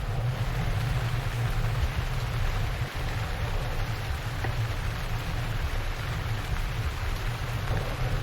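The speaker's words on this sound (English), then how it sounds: "You don't have to let a little rain spoil your day." Steady rain falls throughout, a constant dense hiss with a low rumble beneath it and no voices.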